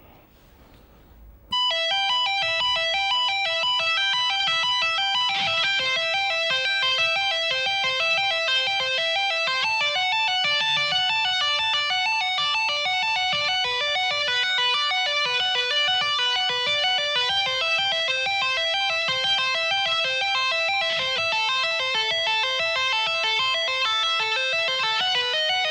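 Electric guitar playing single-string tapping arpeggios with hammer-ons and pull-offs, a fast, even stream of bright ringing notes that continues throughout, close and loud after a short quiet lead-in.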